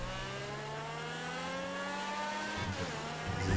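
A car engine in the video game GTA 5 drones steadily and then rises in pitch as it accelerates, with a gear change near the end and a louder rev at the close, and no voices.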